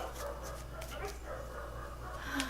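Dogs indoors whimper, pant and give small yips, faint and somewhat distant over a steady low hum, with no one speaking.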